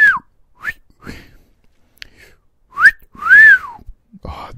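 A person whistles badly in short, wavering bursts, thin breathy attempts with a few clearer sliding tones, close and loud, broken by silences, while playing The Last of Us Part II.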